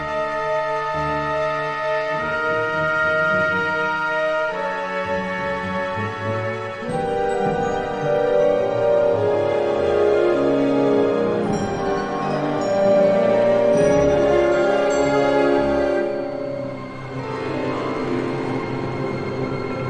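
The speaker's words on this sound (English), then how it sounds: "If you've ever had the main menu of Diablo on for a long time" Orchestral music from the Diablo II main menu, a sustained, layered passage of strings and brass with tremolos and low swells, playing continuously at full volume with no talking.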